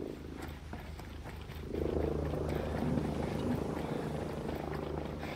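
A helicopter in the video game Ghost Recon Breakpoint drones with a low, steady rotor hum that grows slightly louder partway through, heard alone at moderate distance.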